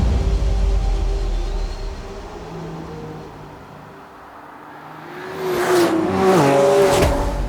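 Engines of a Lamborghini Revuelto, Aston Martin Vanquish and Ferrari 12Cilindri, all V12s, drone steadily and then rise into a loud, close rev with rising pitch near the end, with no voices.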